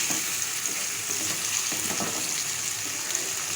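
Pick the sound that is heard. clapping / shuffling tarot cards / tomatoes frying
tomatoes frying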